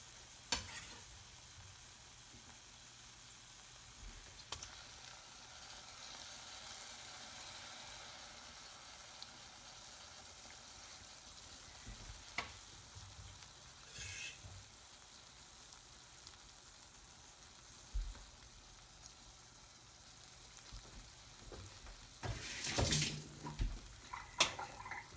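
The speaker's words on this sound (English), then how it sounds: "so these onions are looking good, so I'm going to go ahead and add my cherry peppers" Onions and cherry peppers sizzling in olive oil in a cast iron pan, a steady close frying hiss throughout with occasional utensil knocks and a burst of stirring and scraping near the end.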